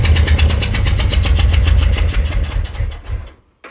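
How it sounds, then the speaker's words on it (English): A Ford FE 352 V8 cranking hard with a rapid, loud rhythmic chug, sputtering and popping as it backfires, then cutting out abruptly into silence near the end. "You gotta love it when it backfires."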